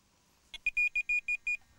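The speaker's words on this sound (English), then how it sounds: "every single bleep on the buzzer is heard on here" A Tx-i Plus fishing bite alarm bleeps after a short click, giving seven clean, close electronic beeps in a quick, slightly uneven run, loud and alone against a quiet background.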